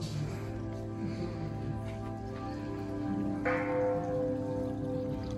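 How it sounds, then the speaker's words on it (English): A bell chimes at the Ushiku Daibutsu Buddha statue grounds in Japan, a sustained ringing tone with a fresh clear strike about two-thirds through, heard outdoors at moderate distance. "So the Buddha, there, it's chiming."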